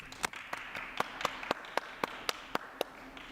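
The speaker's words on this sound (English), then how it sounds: "Round of applause for Margaret," Sparse clapping after a talk at a Linux and open source conference in a ballroom, a few evenly spaced claps from a small audience, fairly quiet, with a low murmur underneath.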